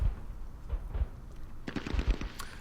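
Gunfire from the ASL mod, a tactical war game, comes as scattered sharp cracks with low thumps, a sparse early shot or two and then a quick cluster of bursts near the end, fairly close and moderately loud.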